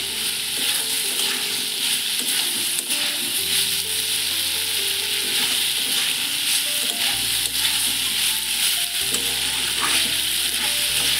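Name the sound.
frying panch phoron spices, ginger, cumin and tomato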